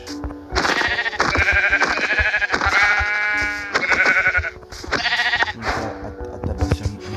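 Sheep in Minecraft Bedrock Edition bleating while being hit, several loud, close bleats in quick succession with brief pauses between them, no talking.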